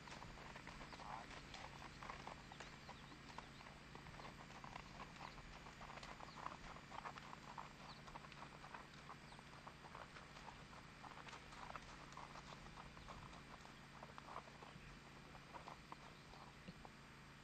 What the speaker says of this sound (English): There you go, Skip onto the trailer